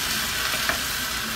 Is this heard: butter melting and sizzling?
yes